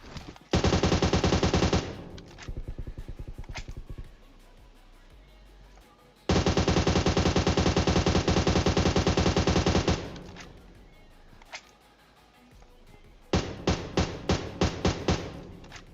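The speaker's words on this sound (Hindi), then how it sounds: "ये वाला बंदा जो दूर से गोली चला रहा है ना" Gunfire in the battle royale game PUBG Mobile comes in long, loud automatic bursts, separated by quieter stretches with a few isolated single shots, some fired from a distance.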